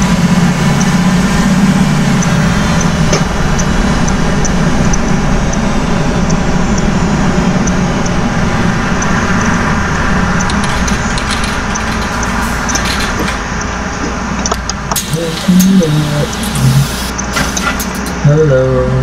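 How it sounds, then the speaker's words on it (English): A bus engine runs with a loud, steady low rumble that continues throughout, with some rattles and brief clunks late on. "Oh, I love the engine of this bus."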